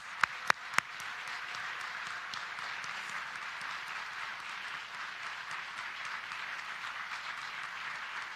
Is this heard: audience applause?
yes